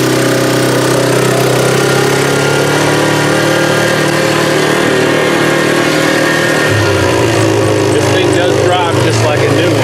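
An engine drones steadily throughout, close and loud, as a vehicle is driven along a road in central Louisiana. The engine tone shifts slightly partway through, with rattles and vibration mixed in.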